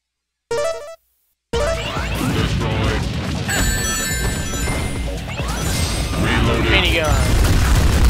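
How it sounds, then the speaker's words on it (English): Rapid, dense minigun fire from E-123 Omega in the Sonic Smackdown fighting game, a loud continuous barrage of crashing shots and impacts that starts after a short burst and keeps building through to the end. "Minigun."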